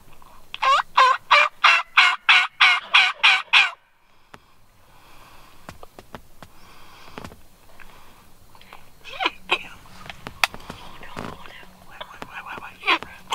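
A rapid burst of loud gobbling from wild turkey longbeards in South Carolina during a hunt, then quieter rustling, clicks and scattered faint calls in the open.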